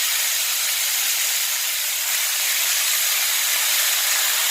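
Dill greens hiss and sizzle in hot oil with cumin and mustard seeds, a loud continuous bright frying hiss held steady close up with no talking.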